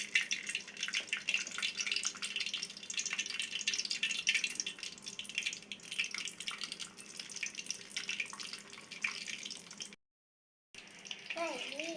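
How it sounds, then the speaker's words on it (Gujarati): Puris deep-frying one after another in hot oil give a steady, dense sizzle and crackle throughout, broken by a short silence near the end before the sizzling resumes. "હવે આપણે એક પછી એક પૂરી તળી દઈએ અંદર."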